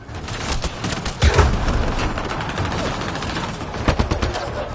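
Rapid gunfire rattles in the video game Mass Effect Andromeda, loud and close, with bursts and a couple of heavier booms throughout.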